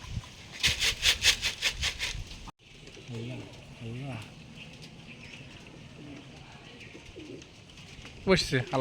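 Rajshahi Giribaz pigeons coo in soft, throaty pulses at a pigeon farm, with a burst of wing flaps, then a person talks quietly over faint bird sounds.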